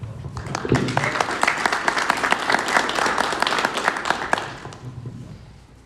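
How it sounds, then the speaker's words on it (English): Audience at a school board meeting applauds volunteers, a short burst of clapping that builds quickly, holds for several seconds and then tapers off, with a low voice or room murmur underneath. "join me in a round of applause for this type of volunteerism"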